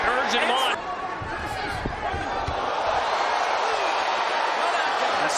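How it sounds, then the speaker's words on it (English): Arena crowd at a boxing match featuring Abdullah Mason, a constant loud roar and buzz of cheering with voices talking over it throughout. "This crowd is really urging him on."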